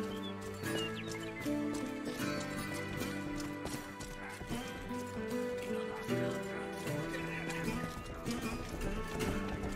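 Horse hooves clip-clop at a steady trotting pace in a medieval video game, with the rhythmic clopping sitting under a busy bed of music and game sounds.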